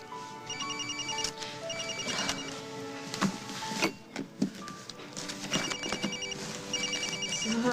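A cell phone rings with a repeating electronic ringtone in short melodic bursts, separated by gaps and mixed with background clatter and thumps nearby.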